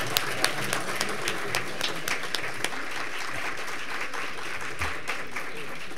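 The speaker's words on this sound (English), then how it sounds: "Please give our graduates another round of applause" An audience at a scholarship luncheon applauds graduates with a continuous wash of clapping, a few sharper individual claps standing out, and faint voices mixed underneath.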